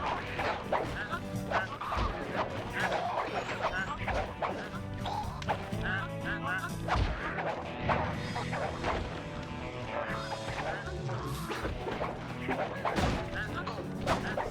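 Quacking from a goose in the video game Sly 2: Band of Thieves rises amid busy game audio, with crashes, thwacks and other effects layered around it.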